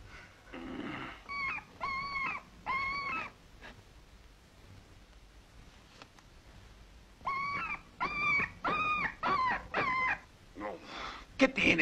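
A dog whimpers and howls in repeated plaintive, tonal bursts, pausing between groups, against a faint noisy background.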